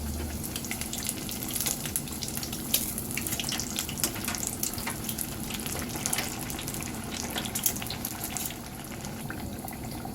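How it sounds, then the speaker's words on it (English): Battered eggplant fries in hot oil with a steady, dense crackling sizzle, moderately faint and unbroken throughout. "And fry until golden brown."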